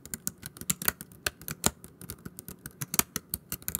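Fingers type on the firm, wobble-free keys of an ASUS E210MA budget laptop, giving a close, quiet run of irregular crisp clicks with no talking.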